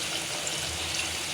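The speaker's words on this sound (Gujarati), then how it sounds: "થોડુંક પાણી નાખી દઈશું." Water pours into a cooking pot of potato and moraiyo khichdi being made in a Gujarati home kitchen, a steady close splashing stream running alone for the whole short moment.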